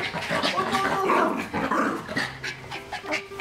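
A puppy whimpering and panting in short, high whines, close and continuous with a muffled busy background.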